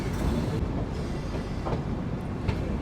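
A train runs along the Delhi–Kanpur line near Kanpur Anwarganj station, a loud steady rumble of wheels with rhythmic clickety-clack from the rail joints, close by and continuous throughout.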